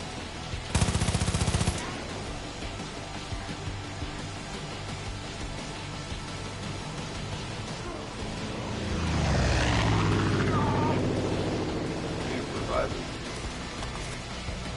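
In a video game, an enemy plane attacks with gunfire: a loud, short burst of rapid shots comes first, then an aircraft roar swells, sweeps past and fades out.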